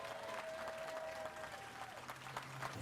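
Audience applause at an event honoring a record-holding Emmy-nominated makeup artist, a steady wash of clapping from a crowd, moderately loud and continuous with no talk over it.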